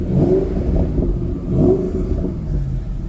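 A Ford Mustang built as a Shelby GT500 clone, with a manual clutch and 3.73 gears, revs its engine twice in deep rising swells that settle back to a rumbling idle between them, loud and close.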